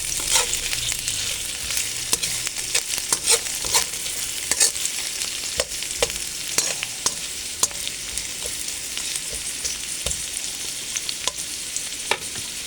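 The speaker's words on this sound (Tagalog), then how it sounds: "Haluin. Siyempre, lutuin natin yung ating luya para lumasa." Ginger sautéing in a pot while being stirred, a loud constant sizzle overlaid with frequent quick clicks and scrapes of a spoon against the metal, close up and without speech.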